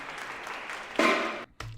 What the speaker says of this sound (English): Just some polite applause from the shoppers that happen to be randomly shopping when you can.